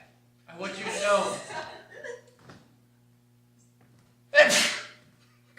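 A single sharp sneeze bursts out near the end, following a stretch of someone talking with a low steady hum underneath, during an improv comedy podcast set.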